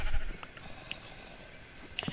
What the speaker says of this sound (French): Ici, un petit spawner à moutons.